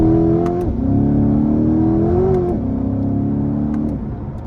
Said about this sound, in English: I'm gonna give it a bit of throttle here. We're just gonna keep it in second and redline